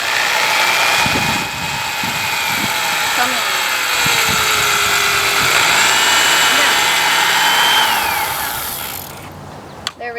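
A power drill whirs continuously while pre-drilling holes in a box, its pitch sliding up and down, with a brief spoken remark over it and an abrupt stop near the end.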